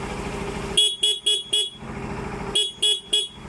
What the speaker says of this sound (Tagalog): Okay. Busina.